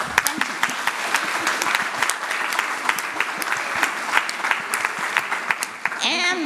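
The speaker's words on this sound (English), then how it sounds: "Let's give a round of applause to the memory of Grace Chisholm Young." Sustained applause from a mathematics congress audience, many hands clapping in a dense, even roll that holds steady before a speaker's voice comes in at the end.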